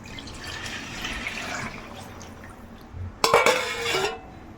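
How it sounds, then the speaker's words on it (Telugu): Faint kitchen clatter, then a short splashing pour of tamarind water into a fish curry near the end, lasting about a second before fading. "ఈ చింతపండు వాటరు వేయడమే"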